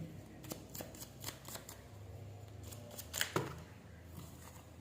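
Tarot cards slip and flutter from the hands in a run of soft, papery flicks and light slaps, quiet and close, with a brief busier cluster of card sounds near the end.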